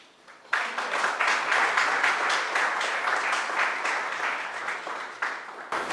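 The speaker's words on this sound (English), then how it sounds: "may I please ask everyone to give them a round of applause" A round of applause for teachers at a university welcome event bursts in suddenly and holds steady and full for several seconds, dense clapping from a sizeable audience without voices.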